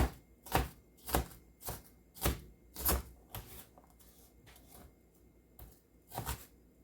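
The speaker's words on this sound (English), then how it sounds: "Just a rough chop, nothing fancy." A knife roughly chops an onion on a cutting board, making about ten sharp, close thuds in an uneven rhythm, with quieter taps between the stronger strikes.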